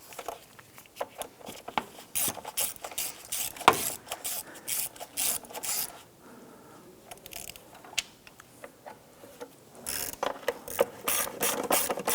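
A hand ratchet clicks in quick, uneven bursts while tightening valve cover bolts down gently on a 2007-2012 Nissan Versa, close and fairly loud, with short pauses between runs of rapid pawl ticks and no talking.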